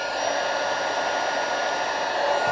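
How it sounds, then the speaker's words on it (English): A heat gun blows with a steady, loud whooshing hum, continuous and unchanging from start to finish. "a bit of noise now while I just heat this up"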